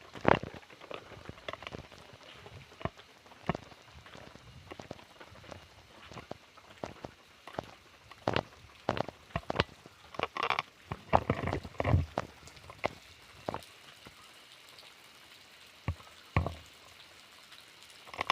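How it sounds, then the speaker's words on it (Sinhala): Water falling from the rock ceiling inside Batadombalena cave at Kuruwita: scattered, irregular drips and small splashes, some close and some farther off, over a faint hollow background. "මේ උඩේ ඉඳලා වතුර වැටෙනවා."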